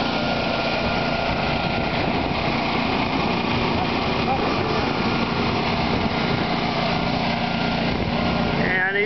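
A trail mower's small engine runs steadily and loud close by, a constant buzzing drone that continues throughout while people talk over it.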